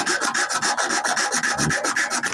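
Rhythmic rasping strokes of sandpaper hand-sanding a wooden knife handle, quick and even, close up with no talking.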